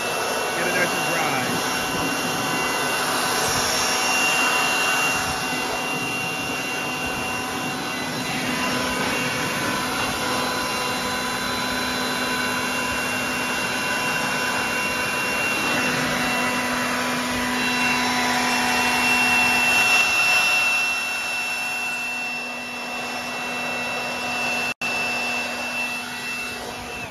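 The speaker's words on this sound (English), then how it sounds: "we're gonna get our handy dandy DeWalt leaf blower here, blow out underneath the deck and on the top here as well" A DeWalt leaf blower drying a John Deere Z320R zero-turn mower deck, underneath and on top, gives off a steady, loud whooshing roar that holds through the whole stretch with slight swells in intensity.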